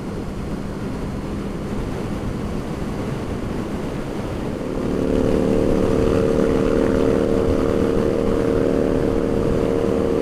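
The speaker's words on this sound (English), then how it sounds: "the water is pretty choppy today. It's all that wind. It really is windy." Steady rushing wind and choppy water noise on a windy late afternoon in the South Okanagan, with a boat engine droning louder partway through; no voices, a constant close roar.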